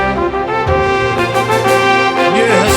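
The Kaun Banega Crorepati super question cue plays as a loud, bright musical sting with sustained synth tones, sweeping notes and a few accented hits, heard alone without any voices.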